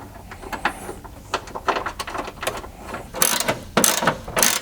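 A 10mm socket ratchet turns a ground-wire bolt near the battery post in a Toyota Tacoma, giving close, crisp clicking in irregular bursts.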